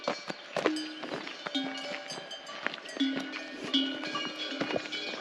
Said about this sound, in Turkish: her tarafta inekler var